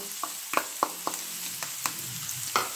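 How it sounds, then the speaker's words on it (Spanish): Onion frying in hot oil as it is stirred: a soft background sizzle broken by about eight sharp clicks and scrapes of a utensil against the pan at uneven intervals. "Una vez caliente el aceite, lo que vamos a agregar es la cebolla por un lado, toda la cebolla"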